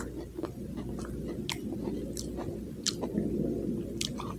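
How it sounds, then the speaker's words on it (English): Slow, wet chewing of a Portillo's double cheeseburger with fries and onion rings, soft squishy bites close to the ear, broken by occasional sharp crunchy clicks. "Slow chews."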